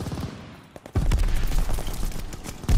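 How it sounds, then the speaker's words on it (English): A Call of Duty: Vanguard multiplayer firefight produces rapid bursts of close gunfire, a quieter lull giving way to loud sustained shooting and a heavy final burst. "my teammate shot me"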